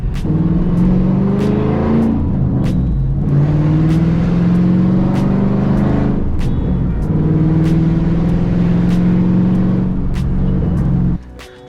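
A loud, deep straight-piped V8 engine on a Shelby GT500 roars continuously, revving through rising gear pulls with sharp crackles, close and aggressive, before cutting off.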